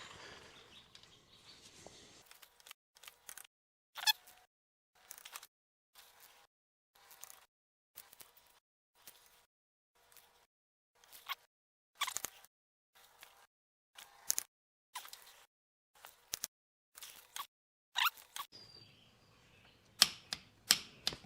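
A ratcheting torque wrench tightens valve cover bolts on a Honda TRX500FA Foreman Rubicon ATV engine, giving a close series of sharp, dry clicks in an irregular rhythm with short pauses between them.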